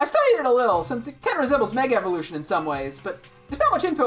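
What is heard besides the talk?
None of the usual background noises is heard.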